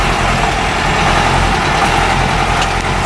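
A Toyota Bandeirante's engine runs steady and loud as the vehicle pulls away in first gear on a private property, a dense continuous drone with no talk over it.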